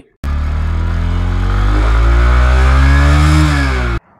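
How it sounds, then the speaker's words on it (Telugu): A 2024 Bajaj Platina 100 motorcycle engine starts and runs steadily at close range for about four seconds, its low drone rising slightly in pitch before cutting off abruptly. "ఒకసారి ఇంజన్ సౌండ్ అయితే ఒకసారి వినండి."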